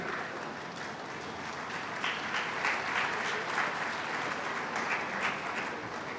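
Audience applause at a TRINS 20th Foundation Day event, steady clapping from a seated crowd filling the whole stretch, moderately loud and even with a slight swell midway.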